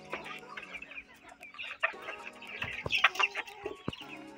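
Pet native hens at feeding time cluck and squawk close by in irregular bursts, scratching and pecking, with a few sharper calls near the end and no talking.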